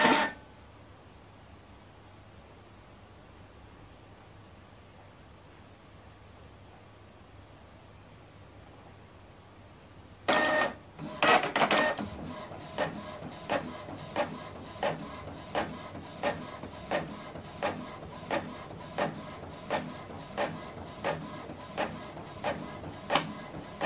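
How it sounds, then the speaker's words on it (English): Canon PIXMA MG3600 all-in-one printer printing double-sided, with quiet idle hum, then a sudden mechanical start and a steady series of rhythmic clicks and feed strokes, close and clear, with no talk. "So it's going to go back inside to print the second page."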